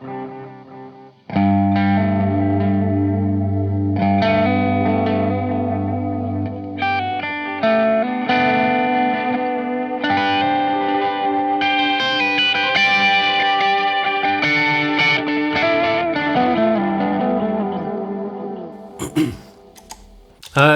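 An electric guitar runs through an Eternity overdrive and a London Fog pedal, playing a steady run of driven notes with delay trails for most of the clip before it cuts off.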